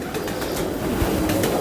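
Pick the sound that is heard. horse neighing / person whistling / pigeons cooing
pigeons cooing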